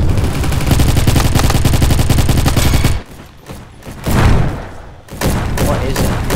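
Rifle fire in the Roblox game Bad Business: a rapid, dense stream of loud shots for about three seconds, a short pause with a lone burst, then another sustained volley.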